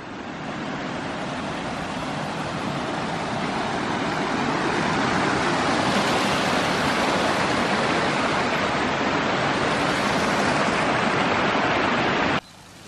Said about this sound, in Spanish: Por aquí cae el agua.